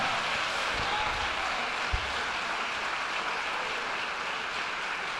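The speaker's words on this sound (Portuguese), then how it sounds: "Você pode aplaudir ao Senhor agora?" A church congregation applauding, a broad, even wash of clapping that holds steady throughout and sounds somewhat distant and diffuse.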